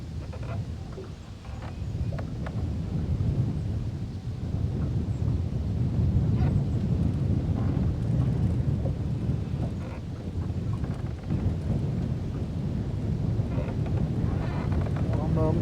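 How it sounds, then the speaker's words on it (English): Strong wind buffeting the microphone on a lake during fishing, a continuous loud low roar with gusty swells throughout. "I'm glad I'm not out here guiding in this wind. That wind is fierce."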